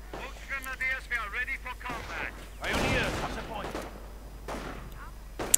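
Rifle fire crackles in a war strategy video game: a short burst of shots mid-clip under a commentator's ongoing talk.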